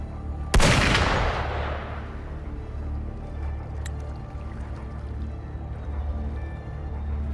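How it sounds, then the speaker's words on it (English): A single loud, sharp gunshot rings out in the Wuthering Waves video game, its blast ringing off into a long fading tail over a steady low ambient rumble with no other shots. "Gunfire!"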